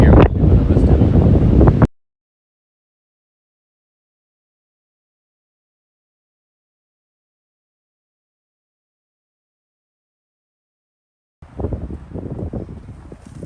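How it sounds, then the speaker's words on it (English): Strong outdoor wind buffets the microphone while branches are cut for homemade fence posts. A loud, rumbling gust lasts about two seconds, then there is a long silent gap, and a second, slightly softer stretch of blustery wind noise follows. "It's a bit too windy to keep doing any more"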